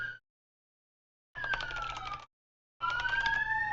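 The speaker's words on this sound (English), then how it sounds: "Sirens just driven by." A fire truck siren passing by wails in short sweeping bursts, pitch sliding down then up, cutting in and out between silent gaps.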